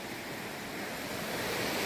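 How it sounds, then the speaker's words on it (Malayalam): Steady rushing water flows without a break, a broad, even wash of sound from a small stream running close by in an Idukki village. "ഇതൊരു പുഴ ഇങ്ങനെ ഒഴുകി വരുന്നുണ്ടേ"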